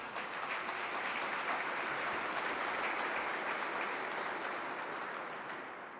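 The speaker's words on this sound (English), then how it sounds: "I think that deserves a round of applause" An audience at an award ceremony breaks into sustained, even applause, many hands clapping together at moderate distance and tapering slightly at the end.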